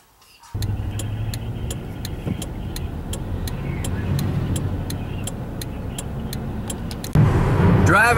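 Car driving home from work at night, heard from inside the cabin, with a steady low road and engine rumble, a regular faint ticking throughout, and a louder shift near the end.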